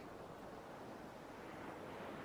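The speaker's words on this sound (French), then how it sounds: "tu continues à imaginer ces vagues qui se forment, viennent se dérouler sur le sable" Ocean waves roll in and unfurl on sand in a soft, continuous wash of surf, faint and distant, with no voice over it.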